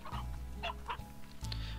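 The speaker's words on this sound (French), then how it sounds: "Je crois que je vais piquer un petit peu tous les poulets." A few short clucks from chickens in Slime Rancher, close and distinct, heard as separate bursts over a steady low background hum.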